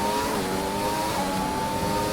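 A Williams Formula 1 car with a Mercedes engine in the F1 2020 racing game accelerates hard, a loud, steady, high-pitched engine whine holding a constant note, heard alone with no voices.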